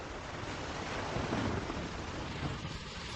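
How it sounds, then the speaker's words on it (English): Heavy rain pours down outdoors as a steady, even, broadband hiss with no pauses, fairly soft and with no voices. "It's pouring rain."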